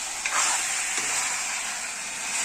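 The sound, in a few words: chicken rezala being sautéed in a pan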